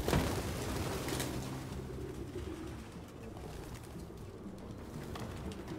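Pigeons coo softly and steadily on a city rooftop in the video game Detroit: Become Human, a low, murmuring flock sound that continues without a break under a faint ambient hum.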